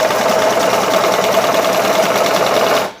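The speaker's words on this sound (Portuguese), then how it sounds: "E eu vou passando a costura." Loud, steady high-speed whir of a home sewing machine stitching elastic onto fabric, running continuously for about three seconds before stopping abruptly, no talking.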